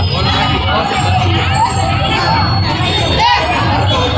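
Crowd noise at a village jatra festival in Bommanahalli, a dense, loud wash of shouting and cheering voices with children's cries mixed in, steady throughout with no break.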